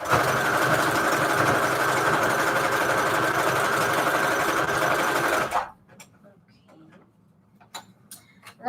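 A sewing machine runs a fast, continuous whirring zigzag stitch through fabric and manila tags for about five seconds, then stops, followed by a few quiet clicks and taps.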